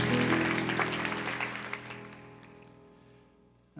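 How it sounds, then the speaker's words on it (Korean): A church congregation applauds to welcome a visiting pastor at a Sunday worship gathering; the clapping starts full and dense, then steadily thins and fades over a few seconds, with a low held tone underneath. "우리 그 마음을 담아 큰 박수로 목사님 환영하겠습니다."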